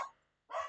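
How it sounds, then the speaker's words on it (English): A dog barks twice indoors, a short sharp bark followed by a brief quiet gap and then a second louder, fuller bark, close to the microphone and heard alone. "Had to pardon my dog; he's having a moment."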